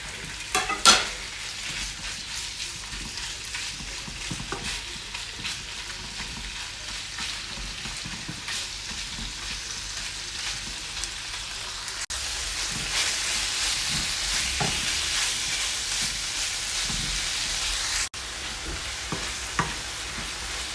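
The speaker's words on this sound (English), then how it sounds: "in the same pan, we're going to add a couple of more tablespoons of oil. And then we're going to cook the beef." Beef cooks in a couple of tablespoons of oil in a pan for a beef and broccoli stir-fry, with a steady close sizzle and hiss. Occasional utensil stirs and clicks come through, with a brief louder clatter near the start.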